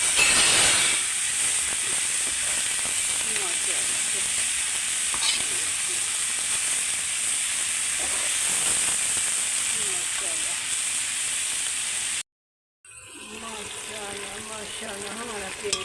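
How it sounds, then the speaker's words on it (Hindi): Minced keema sizzles and hisses steadily in a pan for a long stretch, a loud continuous fry with faint stirring, then cuts out briefly before the sizzle resumes under a quieter tone. "माशाल्लाह इसको हम अच्छी तरह करेंगे फ्राई।"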